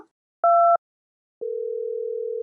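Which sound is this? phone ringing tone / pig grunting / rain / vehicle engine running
phone ringing tone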